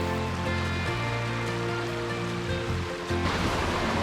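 River water flowing along a San Diego trail in spring, a steady close rushing wash that stays loud from start to end with no talking.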